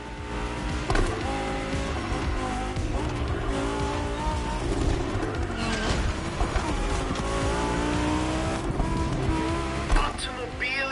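A Lamborghini and a Ferrari racing in The Crew Motorfest, with steady high-revving engine drones, shifting pitch and brief tire squeals under game music and talk, moderately loud throughout.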